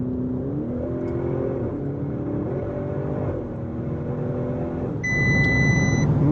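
An Audi RS7 Performance in Dynamic mode downshifting: a loud, close engine drone with stepped rises and falls in pitch as gears change, ending in a stronger rev, with a brief electronic chime over the top.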